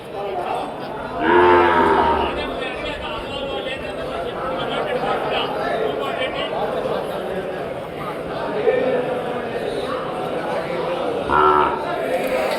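Cattle moo loudly several times, near and far, at a Thursday cattle market in Krosuru, over a constant murmur of crowd chatter and people talking.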